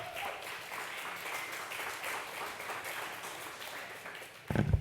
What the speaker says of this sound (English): Let's hear a big applause for them.